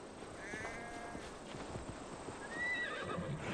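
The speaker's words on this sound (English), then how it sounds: "Why is there a horse running around us?" A horse neighs twice in an Assassin's Creed Valhalla scene, with hooves thudding faintly underneath and a soft ambient hum throughout.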